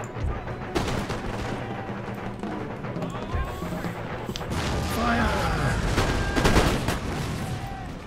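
Musket volleys crack out across an Empire: Total War battlefield, dense overlapping gunfire in several bursts over a continuous roar of battle noise, loud and busy throughout with no voices.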